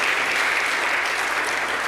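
A hall audience gives a steady, sustained round of applause for a new college administration, dense clapping throughout with no break.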